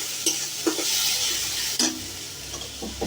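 Spinach sizzles and hisses in a hot pan as a spoon stirs it, with a few scraping strokes against the pan over steady frying noise.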